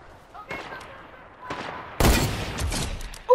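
A sniper rifle shot in a PlayStation 4 video game, a sudden loud blast with a lingering noisy tail, preceded by fainter game sounds and followed by a sharp burst at the end.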